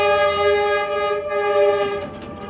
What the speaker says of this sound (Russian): если вы думаете, что проезжающий мимо поезд это не так уж и страшно